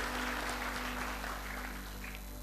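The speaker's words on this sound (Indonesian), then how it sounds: "Ya, silakan, boleh tepuk tangan." An audience applauds at a 2018 graduation ceremony after a speech. Steady, fairly faint clapping from many hands comes over a low hum and fills the short stretch without a break.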